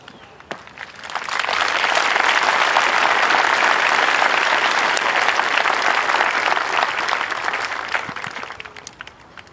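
Crowd at an Air Force Basic Military Training graduation parade bursts into loud, sustained applause, swelling after a quiet start and holding steady before tapering off, with faint cheers mixed in.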